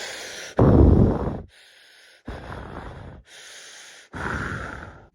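A voice imitates heavy breathing: several loud, rough, noisy breaths in and out, each lasting about a second, separated by short pauses.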